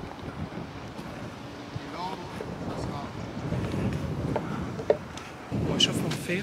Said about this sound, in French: Et il y a un peu de vent, effectivement.